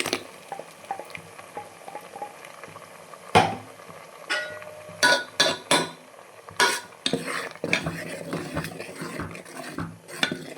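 Ground tomato and coconut paste going into a pot for mutton keema sambar, with scraping and clinking of a spoon against the vessel, soft splats and a faint sizzle, irregular and close.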